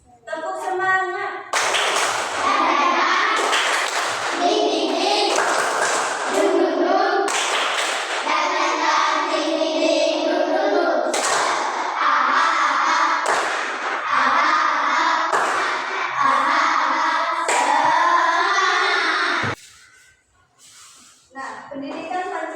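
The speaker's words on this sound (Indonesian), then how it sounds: "mari kita tepuk semangat" Rhythmic spirit clapping (tepuk semangat) in a school civics class, patterned hand-claps in bursts alongside voices chanting together, fairly loud and close, ending abruptly near the end.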